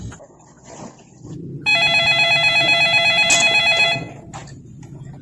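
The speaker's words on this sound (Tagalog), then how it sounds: "huwag mo sasagutin yung telepono kapag si Jessica yung tatawag" A telephone rings with a bright, steady electronic bell tone lasting about two seconds, loud and close, framed by quieter room noise before and after.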